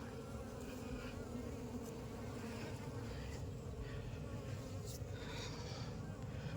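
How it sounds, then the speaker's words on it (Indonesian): Aggressive Apis cerana bees pour out of the back of a hive during a colony relocation, filling the air with a dense, continuous, close buzzing drone from many insects at once, with faint voices in the background. "Dari sini lebah keluar bagian belakang."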